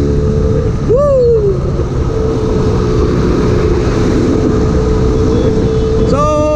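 A Benelli Leoncino 500 motorcycle on a test ride holds a loud, close, steady engine drone under heavy wind rush, with a sharp throttle blip early on and another rising rev near the end.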